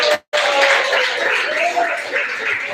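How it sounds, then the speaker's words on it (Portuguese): A church congregation claps together, a fairly steady crowd patter following a brief dropout at the start, with some voices mixed in. "Quem concorda, bate palmas na glória a Deus."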